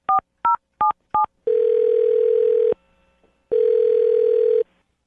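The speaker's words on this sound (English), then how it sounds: "I'm going to dial Alyssa's phone number right now" A phone number is dialed on a telephone keypad: four quick touch-tone beeps, then two long, steady ringing tones separated by a short silence, clear and close with no talking.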